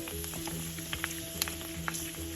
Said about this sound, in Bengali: ওকে তেল গরম হয়েছে মনে হয় দেখো বি কেয়ারফুল popping nice